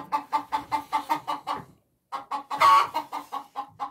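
Chickens cluck in a rhythmic series of close, repeated calls, pausing briefly before resuming with one louder squawk among the clucks, with no talking.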